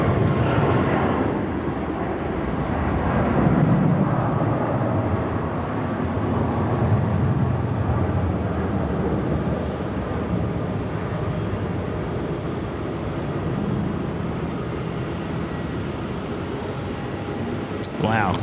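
A Qantas airliner on its takeoff roll at Sydney Airport, departing for Vancouver, gives off a steady, loud jet engine roar that holds evenly throughout.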